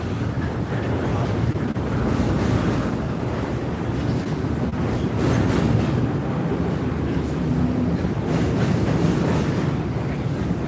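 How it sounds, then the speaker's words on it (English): CSX freight train I-129 rolls past beneath a bridge, a continuous loud rumble of wheels and railcars with wind buffeting the microphone, steady for the whole stretch. "We're watching CSX I-129 roll under us."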